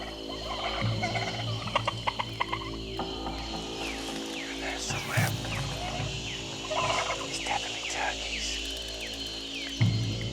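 Turkeys gobbling in the jungle, with several bursts of gobbling calls at moderate distance over a background of other jungle sounds and occasional faint voices.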